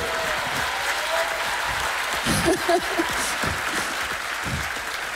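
An audience at a master class applauds a woman introduced alongside the director, a steady broad wash of clapping running throughout, with a few voices rising within it.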